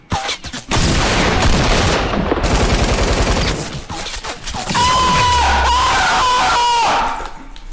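Rapid automatic gunfire in the video game Fortnite, loud sustained bursts of shots with short pauses, followed by a high whistling tone and more gunfire with a low thump underneath.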